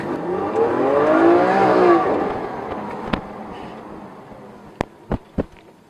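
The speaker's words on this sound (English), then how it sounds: "It's a fast car." A fast car revs and accelerates nearby, its engine note rising and sweeping for a couple of seconds before fading into quieter background, followed by a few sharp, isolated clicks.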